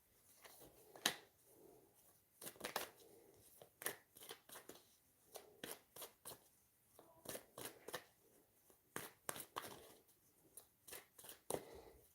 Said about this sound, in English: I'm shuffling cards for you, Gigi.